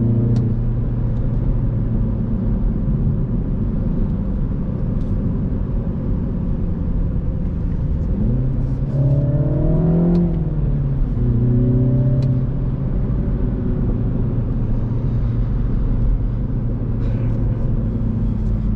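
MINI Cooper S driving in sport mode, a steady close engine drone with tyre and road rumble, then a clear rising rev and gear shifts around the middle before settling back to cruising.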